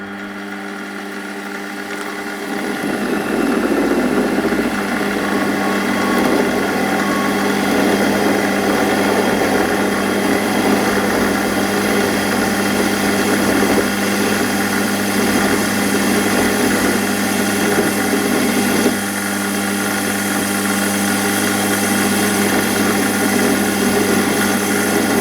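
A machine tool takes a final cut on the flywheel of a model finger engine, a loud steady mechanical hum with motor drone and cutting noise that rises after a brief quieter start and runs continuously, close by.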